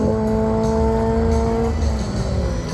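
A BMW M4 and a Toyota drag race side by side, with engines droning loudly and steadily at high revs as the cars pass.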